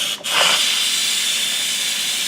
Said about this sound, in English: Okay, that's reducing the pressure. Can you see that steam right there?